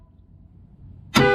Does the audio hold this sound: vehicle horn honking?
yes